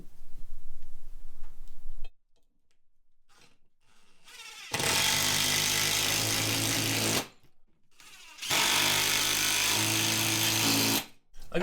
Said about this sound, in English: we'll take our lag bolts and drive them in